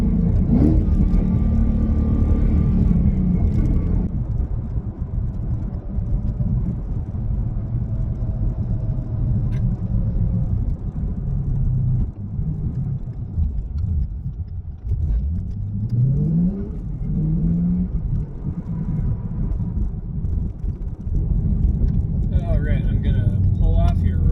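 A Ford Mustang GT engine rumbles loudly from inside the cabin while driving and shifting gears, with revs rising and falling between shifts, and someone talks over the engine throughout.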